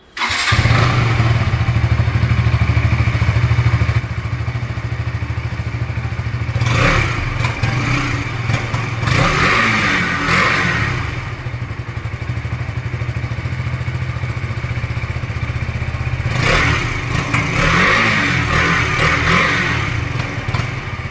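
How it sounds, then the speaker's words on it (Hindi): A KTM RC BS6 motorcycle idles with a loud, throbbing exhaust note, broken by several sharp revving bursts that rise and fall back to idle, close to the listener and without talk. "सबसे पहले इसकी एग्जॉस्ट साउंड सुन लेते हैं अपन।"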